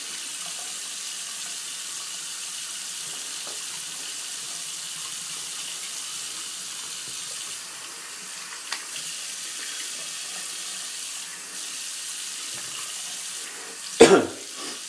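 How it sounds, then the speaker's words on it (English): Tap water runs into a sink while soap is rinsed off hands after lathering a shaving soap puck, a soft steady hiss throughout with a brief clunk near the end. "Let's go ahead and rinse my hands off here. Rinse the soap off the puck."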